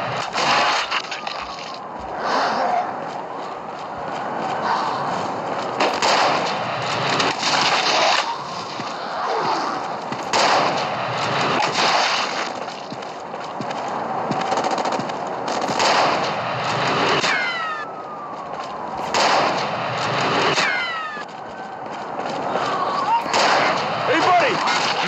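Gunfire crackles through a fight in the zombie shooter game Unkilled, repeated bursts and impacts spread across the whole stretch, with game voices and effects layered over it.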